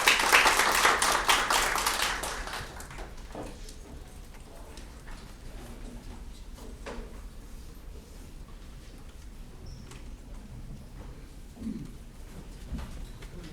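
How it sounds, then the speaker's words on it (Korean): Audience applause at a seminar on apartment remodeling disputes, a dense burst of clapping over the first couple of seconds that quickly fades into quiet room tone. "큰 박수 부탁드립니다."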